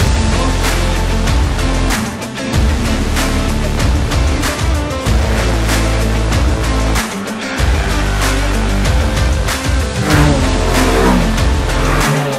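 A Citroën C1 cup race car on track during a practice session at Spa, its mid-pitched engine revving loud and continuous up and down through the gears, with brief lifts and a hint of tire squeal.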